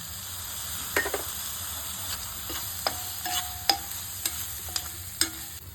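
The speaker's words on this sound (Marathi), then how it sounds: "मसाले चांगले भाजलेले आहेत बघा आता ह्याच्यात आपण ग्रीन ग्रीन पीस घालूया" Green peas frying in roasted spice masala, a soft sizzling hiss broken by a series of sharp spatula scrapes and stirring clinks at irregular intervals, close and moderately quiet.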